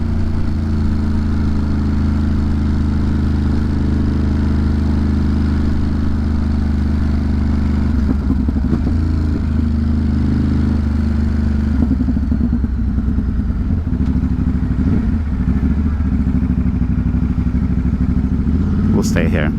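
Motorcycle engine running steadily on a freezing morning city commute, a continuous low mid-pitched drone with some clatter and rising revs near the end, loud and close throughout.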